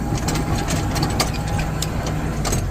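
Tractor engine drone while pulling a Pottinger Servo 25 Nova plough through heavily stony field, easing off speed; a steady, loud low rumble with a faint knocking rhythm, continuous and close, no talk.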